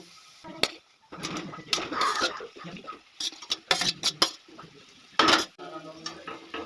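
Fried potato and pumpkin pieces are tipped into a pan of cooked-down spices for a vegetarian pumpkin curry and stirred, with irregular clinks, clatters and spatula scrapes against the pan separated by quiet gaps.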